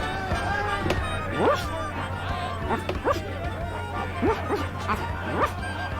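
Cartoonish dog barks and yips from The Secret of Monkey Island video game, several short bark bursts spread across the clip over a steady background hum, apparently a human voice imitating a dog.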